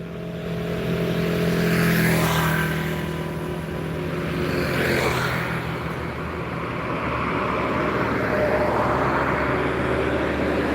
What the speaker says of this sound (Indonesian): Ada rombongan truk lagi, cuman ada berapa ya?